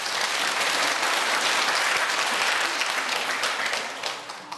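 Church congregation clapping for the choir during a Sunday worship service, a full, steady burst of applause from many people that fades out after about four seconds.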